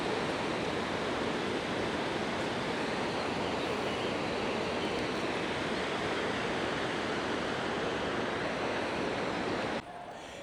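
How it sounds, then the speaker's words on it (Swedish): Fast-flowing river water rushes in a steady, dense roar close by, broadband and unbroken for the whole stretch, dropping slightly in level at the very end. "Ja, det är rätt bra fart på vattnet här."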